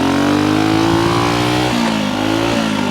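A motorcycle engine revs hard and close during a lap, a loud, steady rising drone that dips briefly as the gear shifts partway through, then pulls on again.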